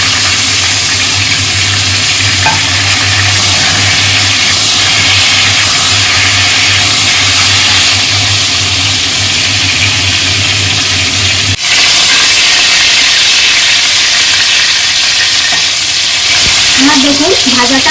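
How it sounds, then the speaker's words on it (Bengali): Pieces of pointed gourd (potol) fry in hot oil over a low gas flame, giving a steady, close, dense sizzle with faint scraping stirs throughout. There is a brief break near the middle, after which the frying resumes just as strongly. No one speaks. "তেলটা গরম হয়ে গেছে, এখন গ্যাসের ফ্লেমটা আমি লো করে দিয়ে তারপর পটলগুলো ছাড়ছি।"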